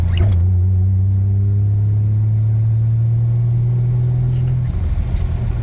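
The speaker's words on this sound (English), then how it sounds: "Even from low RPM, it'll pull out of the dig." Jeep Comanche pickup with a swapped Vortec 4200 inline-six pulling away from low RPM, a loud steady engine drone that rises in pitch, then cuts back near the end.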